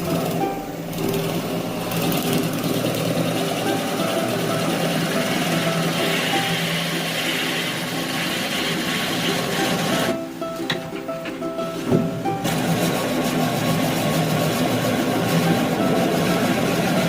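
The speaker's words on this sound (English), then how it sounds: "Now we use the roughing gauge to remove the unwanted layers of wood from our sample." A roughing gouge cuts a spinning persimmon log on a wood lathe, giving a loud, continuous rough grinding and whirring that breaks off briefly partway through, then resumes.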